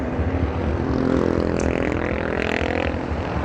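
A Honda Wave100 motorcycle built as a sleeper revs its engine in a steady, loud, buzzing drone that swells slightly midway and holds throughout, with no voices.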